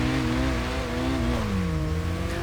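Toyota Chaser engine in the video game Kaido Racer 2, a steady droning car engine note that holds its pitch and then dips slightly as revs drop, with no talk over it.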